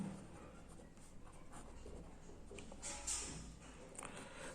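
Marker or chalk writing on a board during a polynomials lesson, a steady soft scratching and tapping that runs continuously at close range, with no talk.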